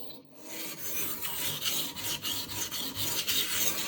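A knife is sharpened with push-pull strokes on the whetstone of a precision sharpener set up at a sink. A steady, close, gritty rasping repeats in even strokes with no talk.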